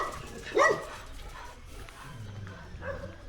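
A dog gives one short, loud bark or yelp early on, then faint whines and low rumbles follow amid outdoor background noise in a lush Himalayan hill setting.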